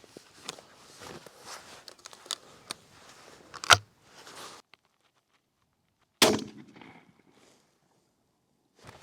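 A .410 turkey shotgun is fired outdoors at a 70-yard target, giving one sharp, loud report with a brief ringing tail, preceded by quieter rustling, handling clicks and a single sharp snap.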